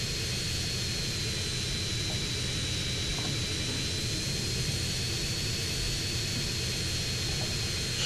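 Helicopter flying in GTA San Andreas, a steady loud engine and rotor roar with broad hiss and a thin whine, continuous and unchanging throughout with no talk.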